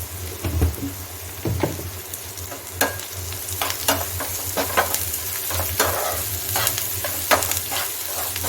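Onions frying in a pan, a steady loud sizzle with repeated scraping stirs of a spoon across the pan, close up and with no talking.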